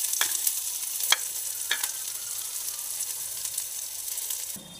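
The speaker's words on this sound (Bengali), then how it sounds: "কড়াটার মধ্যে সামান্য একটু তেল দিয়েছি, আর এই যে পেঁয়াজগুলো দিয়ে দিলাম।" Chopped onions sizzle in a little oil in a kadai, a steady hiss broken by a few sharp scraping stirs of a spoon against the pan, close and continuous before fading at the end.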